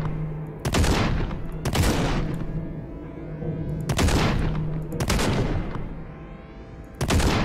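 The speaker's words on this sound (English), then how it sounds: "But thankfully the grenade launcher still does its trick." A grenade launcher fires in the video game Project Warlock 2, with five heavy, booming shots at roughly one-second intervals, each followed by a rumbling tail, all loud and close.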